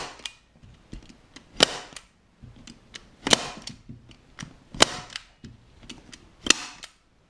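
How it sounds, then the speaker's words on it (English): A staple gun fires into a motorcycle seat cover being refitted on a Yamaha Virago seat, giving four sharp, loud snaps spaced about 1.6 seconds apart, with softer clicks and handling rustle between them. "stick a staple in it to hold it flat"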